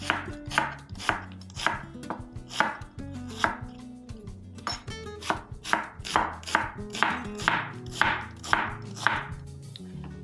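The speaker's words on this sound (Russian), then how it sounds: "Нарезаем луковицу полукольцами." A knife slicing an onion into half-rings on a cutting board, a steady series of crisp chopping knocks, close and loud, repeating at a regular rhythm of roughly two per second, with no one talking.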